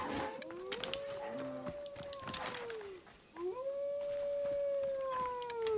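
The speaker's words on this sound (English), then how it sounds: "There's my wolf, howling away." A wolf in the Assassin's Creed Odyssey video game gives two long, sliding howls, the second rising then holding steady, heard clearly over soft game ambience.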